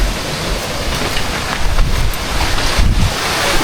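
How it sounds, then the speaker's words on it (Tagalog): Strong wind roars in steady, heavy gusts outdoors, battering bamboo hard enough to nearly snap it; a loud, continuous rumbling blast with no talking. "tignan nyo kung gaano kalakas ang hangin ngayon"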